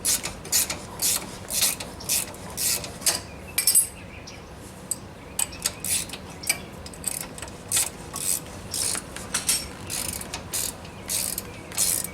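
A hand ratchet turning brake caliper bolts on a 2003 Ford Mustang, giving repeated bursts of crisp, close pawl clicking with short pauses between strokes.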